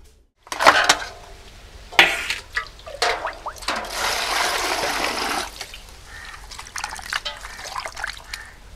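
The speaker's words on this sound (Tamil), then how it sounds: "போய் தண்ணி ஊற்றி அலசிடுவோம்." Water poured over raw meat in a bowl to rinse it, during home cooking for a family wedding: sloshing splashes and trickling pour in several bursts, close by, with a longer steady pour in the middle and drips between.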